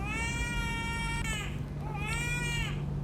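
An infant wails in two long sobbing cries with a steady hum underneath, loud and close, amid a scene of hunger.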